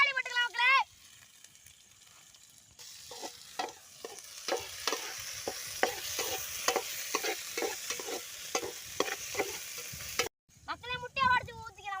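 Tomatoes frying in a pan with onions as they are stirred, a steady sizzle broken by a rapid run of scraping spoon strokes, with bursts of sped-up chattering voice at the start and end.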